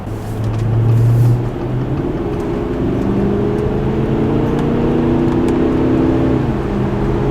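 A family car accelerates to overtake another vehicle on the road, with a loud, steady engine drone heard from inside and tones that rise and shift as it pulls past, with no talking.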